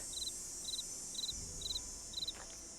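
Crickets in Nancy Drew: Ghost Dogs of Moon Lake sound five quick, evenly spaced trilled chirps, close and clear over a quiet ambient hiss, with a soft low thump near the middle.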